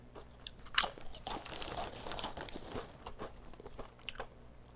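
Close crunching and chewing of sour cream and onion potato chips, crisp bites followed by a few seconds of steady chomping with no talk.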